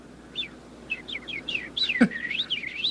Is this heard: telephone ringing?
no